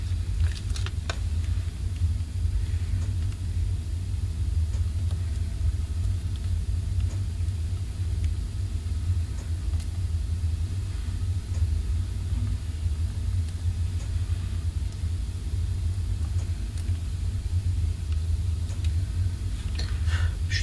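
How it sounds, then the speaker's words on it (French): A home heating boiler hums with a constant low rumble close by, steady and unbroken throughout with faint light clicks of crafting on top. "suis désolée si vous entendez le bruit de la chaudière qui s'est mis en route."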